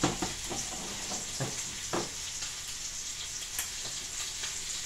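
Pork pieces frying in a pan for a Thai basil stir-fry, a steady soft sizzle with occasional scraping stirs of a spatula, close and fairly quiet, with no talking.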